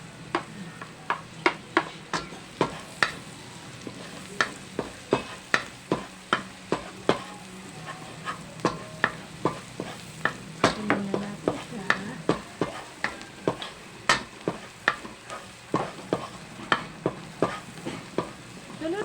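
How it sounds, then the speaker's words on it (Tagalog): Garlic frying in melted butter, a soft continuous sizzle under a fast run of sharp utensil taps and scrapes against the pan, close and fairly quiet, no talking. "Tunawin muna natin and then ilalagay na natin yung garlic."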